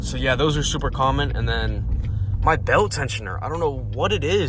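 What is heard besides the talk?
None of the usual background noises is heard.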